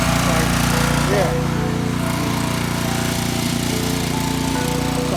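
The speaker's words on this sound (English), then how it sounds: "Every time I do a concrete or anything, you feel me, with this pressure washer, I just enjoy it." A pressure washer cleans concrete at a house, a loud, close, continuous engine drone with hissing spray that holds steady throughout, a voice occasionally audible beneath it.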